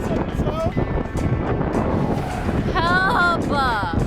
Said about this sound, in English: I wonder how it's going for Derek out there in the wind